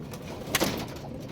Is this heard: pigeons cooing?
yes